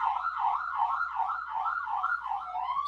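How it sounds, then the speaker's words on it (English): An emergency siren wails steadily in fast, regular rising-and-falling cycles, loud and continuous with nothing else heard over it. "sorry about the sirens behind me."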